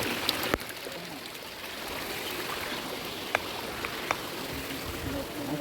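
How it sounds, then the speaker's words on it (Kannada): Steady broadband rush of water flowing through a tunnel, continuous and moderately loud, with a few faint clicks and knocks over it. "ಸುರಂಗದ ಮೂಲಕ ನೀರು ಬರ್ತದೆ."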